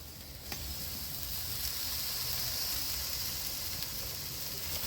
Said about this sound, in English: Oh, gotta love that little sizzle sound,